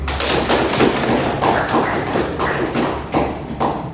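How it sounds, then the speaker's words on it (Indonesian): Students in a classroom clap for their classmates, a steady, loud run of rhythmic claps from a group that keeps going with a regular pulse, close by and with no talk over it. "Kita beri aplaus kepada teman-temannya yang tadi sudah memberikan pendapatnya"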